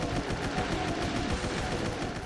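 Rapid automatic gunfire from a weapon in a video game, a dense continuous burst of shots filling the short stretch, close and loud.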